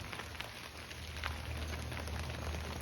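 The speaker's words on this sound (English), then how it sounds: "But it is raining." Steady rain falls over a small backyard garden where watermelons are growing, making a dense, even hiss with scattered close drops and a low rumble beneath, continuous throughout.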